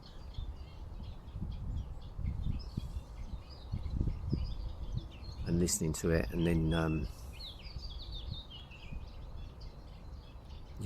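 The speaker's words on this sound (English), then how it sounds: "Each time you hear a bird," Birds chirp and sing outdoors during a mindfulness session, scattered calls with a brief clearer song in the middle, while a calm voice speaks over them.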